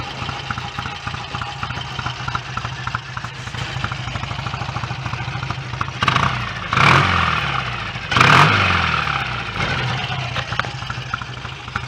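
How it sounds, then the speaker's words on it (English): A BSA A65 Bandit/Fury motorcycle engine idles with an even, close mechanical rumble and clatter, then revs up sharply twice before settling back to idle; no one speaks. "The engine runs beautifully, the bike handles superbly, the brakes are good, it sounds fantastic"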